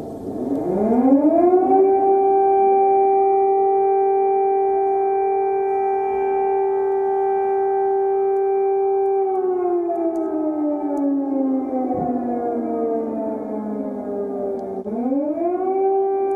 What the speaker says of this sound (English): the evening, of course, started with a blaring air raid siren